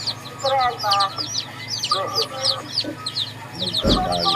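Wild jungle fowl cluck repeatedly and nearby in short chattering bursts, with a louder thump or rustle near the end.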